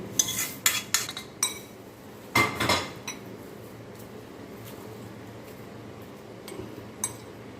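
Spoon stirring chutney premix with mustard seeds in a pan, giving a few sharp metallic clinks and scrapes early on, then a quieter stretch with occasional faint taps over low background hum.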